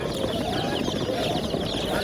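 Chicks at a poultry market in Qoraqamish, Tashkent cheep in a dense, continuous chorus of high chirps close by, with faint voices murmuring underneath.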